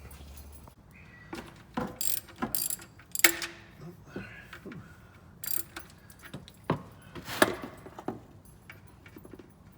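A ratchet clicks and clanks while breaking loose a 17 mm oil drain plug under a 3.0 Subaru Outback L.L. Bean Edition, with close, irregular metallic ratcheting bursts and a few sharp clinks.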